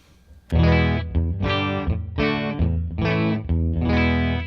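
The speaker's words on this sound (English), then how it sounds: "turning the Ego compressor on" Electric guitar chords through an Ego compressor pedal ring out in a steady rhythm, each strum sustaining evenly with a bright, full tone; no talking.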